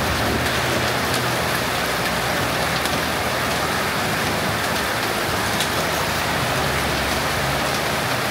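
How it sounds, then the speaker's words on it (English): Heavy tropical rain pours down steadily in Ubud, Bali, a dense, loud and unbroken hiss of water hitting surfaces all around, with no voices. "Check this out though, it's just crazy how fast it comes down."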